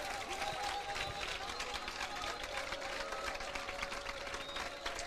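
A church conference congregation claps their hands in a dense, continuous patter that lasts throughout, with voices mixed in.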